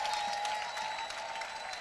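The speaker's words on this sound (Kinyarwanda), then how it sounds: "Mumpere Yesu amashyi menshi" A church congregation breaks into applause, a dense, even patter of many hands sustained at a moderate level, with faint voices underneath.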